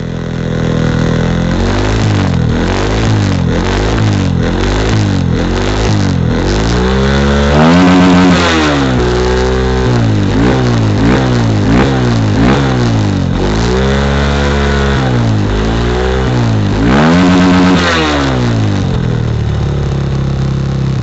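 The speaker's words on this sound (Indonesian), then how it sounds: "Kita geber-geber." A Honda CRF 150L supermoto fitted with a BRT Juken 5 ECU is revved repeatedly up close, its single-cylinder engine rising and falling in rapid blips between idle, with a couple of longer, higher pulls.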